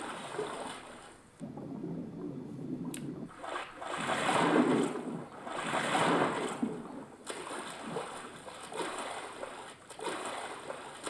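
Water waves in a GameGuru Max video game level wash in slow, rolling surges of splashing and hiss, with nothing else heard over them.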